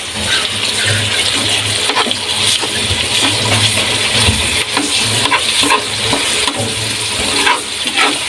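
Liempo (pork belly) frying in hot oil makes a loud, continuous sizzle and crackle with occasional clatters of a spatula against the pan, and no talking.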